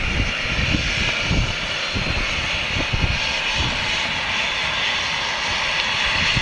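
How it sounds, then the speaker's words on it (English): A private jet passing at Luton Airport, a continuous loud engine roar that holds steady throughout, heard alone without speech. "Nice little private jet there."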